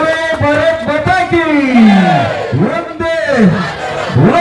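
A crowd at a public Ganesh festival gathering shouts loud, rhythmic victory cheers in unison, with rising and falling chanted calls close by.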